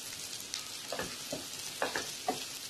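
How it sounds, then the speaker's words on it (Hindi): Fried potatoes and bitter gourd sautéing with spices in a pan: a soft sizzle broken by a few scraping stirs of the spatula, close and fairly quiet, with no talking. "अब हम इसको 2-3 मिनट तक ऐसे ही सॉटे करेंगे"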